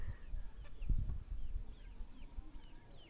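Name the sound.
chickens clucking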